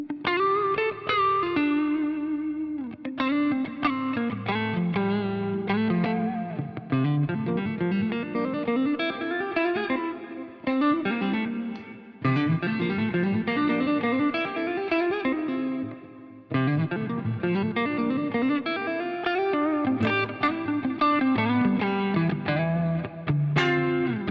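Electric guitar played through a Bluesbreaker-style low-gain overdrive, strummed chords and picked notes ringing out in phrases with brief pauses, fairly loud and close.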